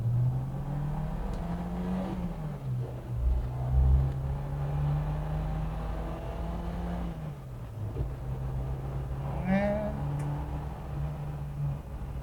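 A 1992 Suzuki Katana car accelerates hard along an empty road, its engine revving up and down through several rises in pitch, loud and close throughout with no voices.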